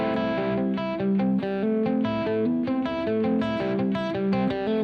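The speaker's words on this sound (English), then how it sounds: "Put a little reverb on there." Guitar played in a quick cross-picking pattern with reverb, bright plucked notes ringing into one another in a steady, continuous flow with no pauses and no talking.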